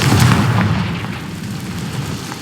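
A Confringo fire spell explodes in Hogwarts Legacy, a loud low boom that rolls into a rumbling, crackling decay and fades over a couple of seconds.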